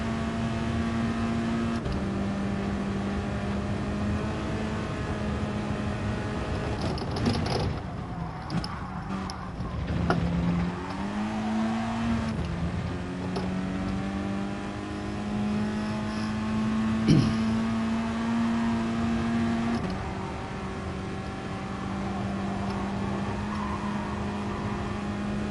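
A race car engine in the video game Gran Turismo Sport holding a sustained, droning whine, with pitch shifting through gear changes and revs rising and falling under steady acceleration.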